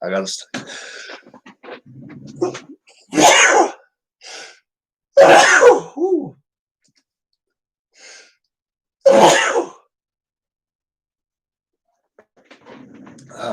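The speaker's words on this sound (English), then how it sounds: "I got to sneeze." Several loud, sharp sneeze-like bursts break up quiet stretches, with someone talking briefly near the start and end.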